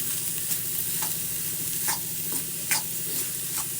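Shredded cabbage roasts in a pan over full flame, hissing with a constant sizzle while a utensil scrapes and stirs it in regular strokes about once a second.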